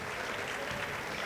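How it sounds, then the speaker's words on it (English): Crowd at a girls' high school basketball game gives a round of applause as a player leaves the court, a brief, fairly faint and diffuse clapping heard from a distance. "Gets a round of applause."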